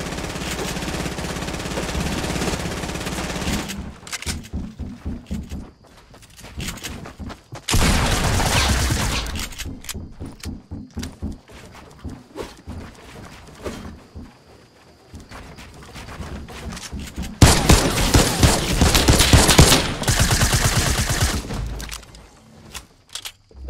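Rapid gunfire including M1 Garand rifle shots in a battle royale video game, loud bursts in several heavy clusters separated by quieter stretches of scattered single shots.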